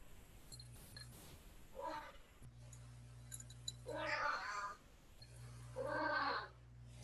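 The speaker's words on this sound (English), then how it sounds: "is that Spike meowing in the background?" A cat meows several times in the background, rising and falling in drawn-out cries at moderate distance over a low steady hum, with no speech during the clip.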